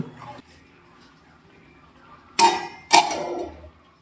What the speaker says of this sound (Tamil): நம்ம வந்து ஒரு பாத்திரம் போட்டு மூடி வச்சிருவோம் அதை தட்டு போட்டு